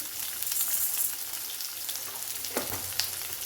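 Black urad dal sizzles in hot oil for a tomato and brinjal chutney, giving a close, continuous crackling fry with a few sharper pops.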